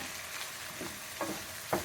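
Sautéed vegetables for a chicken soup are mixed with two bay leaves in a pot over medium-low heat, a soft sizzle broken by two brief stirring scrapes near the end.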